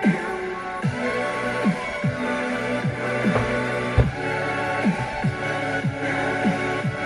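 Electronic dance music by a duo, a repeating pulse of deep swooping bass hits about once per second under sustained synth tones, steady and full throughout with no talking.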